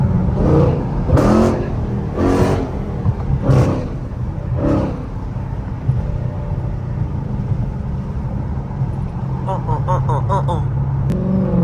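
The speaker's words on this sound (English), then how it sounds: "Scat Pack Challenger with the shaker" A Dodge Challenger Scat Pack with a shaker hood growls with a loud, rumbling exhaust under several shouted voices, then settles into a steady idle drone near the end.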